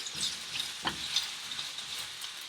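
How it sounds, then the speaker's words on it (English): Onions fry in hot olive oil in a pan for risotto, giving a faint, steady sizzle with a soft scrape of stirring near the middle. "We've put olive oil in the pan, warming it up so the oil is already hot, and at this point we put the onions in it."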